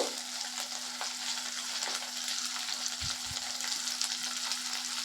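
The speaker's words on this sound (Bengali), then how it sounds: "এক চামচের মতো কসুরি মেথি দিয়ে দিলাম দিয়ে আবার একটু নেড়ে নেব" Onions fry in a pan with a spoonful of kasuri methi (dried fenugreek leaves) while being stirred, a steady close sizzle with a couple of soft spoon scrapes partway through and no voices.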